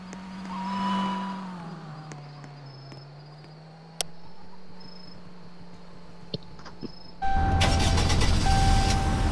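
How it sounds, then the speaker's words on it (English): Patrol car engine in the Roblox video game, a steady low hum that idles and shifts in pitch, with a few clicks, then a sudden loud roar as the engine revs up near the end. "you wanna drive my patrol car?"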